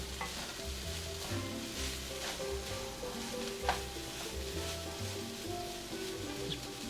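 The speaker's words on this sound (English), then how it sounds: "I've got this on medium heat. And of course, those onions are delicate, so I'm keeping those moving so they don't burn." Onions and fried rice sizzle over medium heat while being kept moving in a pan, with continuous crackling and repeated scraping strokes from a nearby spatula and no talk.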